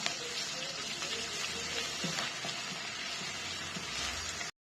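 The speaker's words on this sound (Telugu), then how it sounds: "అల్లం వెల్లుల్లి పేస్ట్ కొంచెం ఫ్రై అయిన తర్వాత" Ginger garlic paste frying in a pan for a mushroom gravy curry, giving a steady, dense sizzle close up with faint stirring scrapes.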